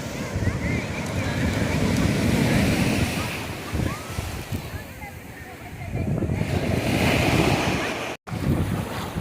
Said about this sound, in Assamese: পানী আহি আছে সাগৰৰ পানী আহি আছে দেখ